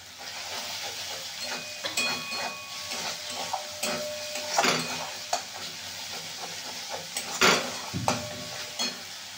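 Fried ground cumin and coriander masala with added sugar being stirred in a pan for ghugni, with a soft sizzle under repeated scraping strokes of a spoon against the metal, close and moderately loud.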